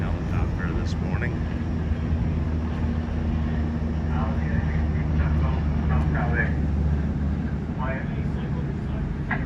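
A helicopter hovers overhead during a sheriff's raid in Oakland, a steady low droning rumble that runs throughout beneath people talking nearby.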